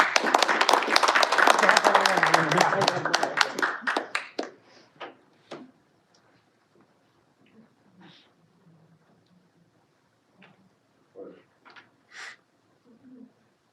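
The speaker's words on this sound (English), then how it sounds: "Please give them a huge round of applause." A small club meeting audience applauds two people called on stage for table topics, with brief dense clapping that quickly thins into a few scattered claps and small sounds.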